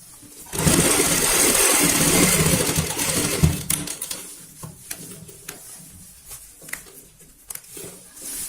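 A sewing machine runs in a steady continuous burst while stitching closed the gap on a baby bed sheet, then stops, leaving quieter handling clicks and small knocks.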